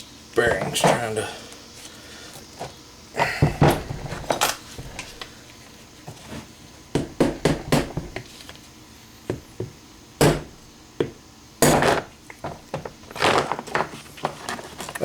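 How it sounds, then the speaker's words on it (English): Bearings being worked out of a WheelHorse hydrostatic drive motor, with a series of sharp metallic clanks, taps and knocks in irregular bursts close by, separated by short quieter gaps. "That's high-speed bearing removal right there."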